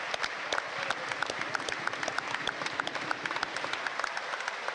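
Rugby league crowd at a York Knights home match applauding an injured player as he walks off, scattered distant clapping with sharp individual claps rising from a steady crowd murmur.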